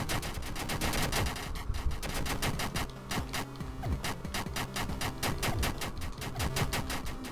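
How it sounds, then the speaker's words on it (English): Rapid, loud bursts of video game gunfire rattle almost nonstop in a fast automatic rhythm, with dense repeated shots filling the whole stretch and no talk over them. "Just keep shooting him! Keep shooting him! Don't stop!"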